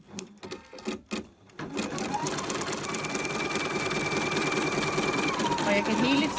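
An embroidery machine stitching a design, a fast even rhythmic whir and clatter that runs steadily after a brief burst of speech at the start, close and fairly loud.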